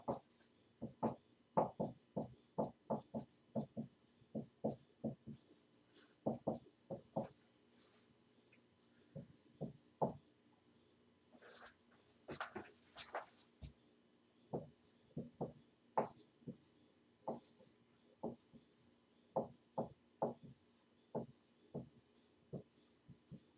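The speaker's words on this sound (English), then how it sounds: "I guess I'll just write the whole thing." Equations are written out by hand, the pen producing quiet, quick scratching strokes in irregular bursts, with brief pauses and some faint background noise.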